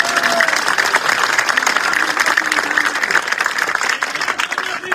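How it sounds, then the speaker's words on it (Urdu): Audience applause at a political speech, steady dense clapping from a crowd filling the whole stretch, loud and continuous with no break. "اس کے لیے تالیاں بجائے"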